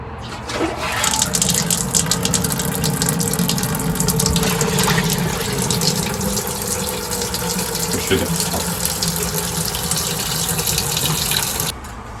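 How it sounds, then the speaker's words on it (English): Hot sparge water at about 158 to 159 degrees poured over grain while brewing an oatmeal stout, a close, continuous gushing splash that runs steadily for about eleven seconds. "sparge water, which is we tempted it's about 159, 158, and we're just gonna pour it over"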